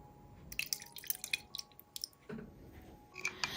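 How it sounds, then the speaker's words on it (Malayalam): A medium-sized lemon squeezed by hand into a summer drink with soaked basil seeds, giving a few soft wet squishes and drips, close and quiet, with a short liquid splash near the end. "ഇനി ഇതിലേക്ക് ഒരു നാരങ്ങ പിഴിഞ്ഞൊഴിച്ചു കൊടുക്കാം"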